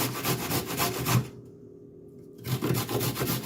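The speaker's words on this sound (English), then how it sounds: "same grater, grate a little less than a cup of sweet potato" Sweet potato being grated on a hand grater for vegetable pancakes: steady rhythmic rasping strokes up close, breaking off for about a second of near silence midway before the scraping resumes.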